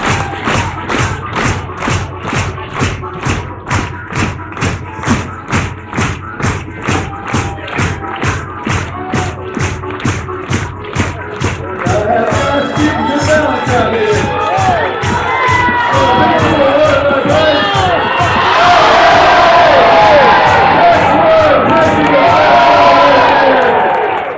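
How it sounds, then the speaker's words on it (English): Audience at a lumberjack log-rolling show in Ketchikan, Alaska clapping and stomping in a steady rhythmic beat, then breaking into loud, sustained cheering and whooping that swells toward the end. "put your hands together, stomp your feet, cheer your man on"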